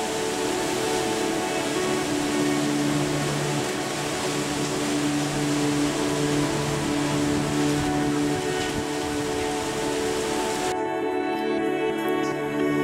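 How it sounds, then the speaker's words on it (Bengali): Strong wind from Cyclone Remal roars as a steady, dense broadband rush that does not let up, then drops away sharply near the end, with no voices. "আর তার সাথে ছিল শব্দ, বাতাসের শব্দ।"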